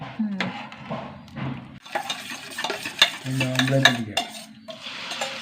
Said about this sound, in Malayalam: ഞാൻ മുട്ട വറുത്തെടുക്കട്ടെ